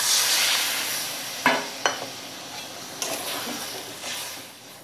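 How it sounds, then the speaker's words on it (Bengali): Water hits a hot pan of fried spice paste for a papaya posto dish, giving a loud sizzling hiss broken by a few sharp clinks and scrapes of stirring that fade into a softer, steady simmering fizz. "এবার আমি এর মধ্যে দিয়ে দেব পরিমাণ মতো জল"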